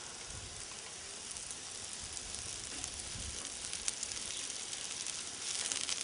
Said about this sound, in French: nous allons baisser légèrement la plancha comme ceci pour laisser saisir nos légumes